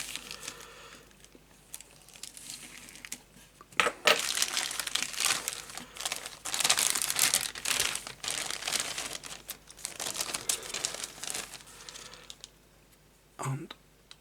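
A plastic bag around a plastic model kit's clear parts crinkles and rustles in bursts, loud and close, with pauses between handling and a short sharp crackle near the end.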